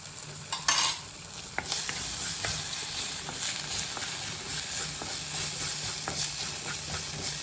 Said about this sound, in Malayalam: എണ്ണയല്ല കോക്കനട്ട് ഓയിൽ ഒഴിച്ചത്